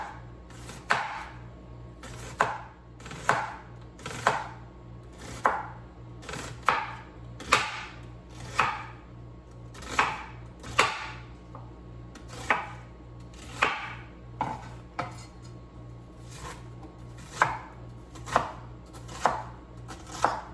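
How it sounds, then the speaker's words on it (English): A knife chops through an onion on a cutting board in a home kitchen, sharp individual strikes falling in a loose, roughly even rhythm about once a second, close and clear over a quiet background hum. "We're gonna cut this onion up"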